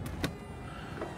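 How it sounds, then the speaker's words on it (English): Electric convertible top of a Porsche Carrera S being lowered, a brief motor whir with soft mechanical clicks, heard close and fairly quiet inside the car. "Put the top down."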